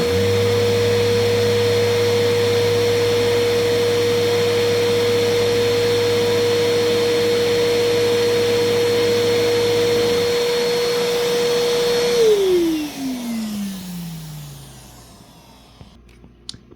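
A Vortech Force XR3000 runs at a loud, steady high-pitched whine for an airflow test, then switches off, its tone sliding down as it spins to a stop near the end.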